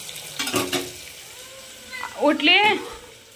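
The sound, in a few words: stirring vegetables frying in a pan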